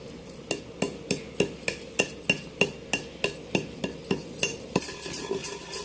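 Raw black peppercorns pounded by hand for a village-style country chicken masala, a steady run of sharp, close knocks at a brisk even rhythm, each strike ringing briefly, with no talking.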